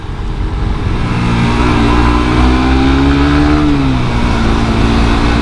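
Suzuki GSX R150 2017 motorcycle engine revving up steadily and loud, pitch climbing then dropping back toward the end, continuous with no talking.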